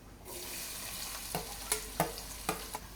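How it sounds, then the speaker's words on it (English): Chopped onions fry in a pan with cumin and spices, giving a soft steady sizzle broken by several sharp spatters and stirring clicks, close and alone with no talk. "I'm adding 5 chopped onions."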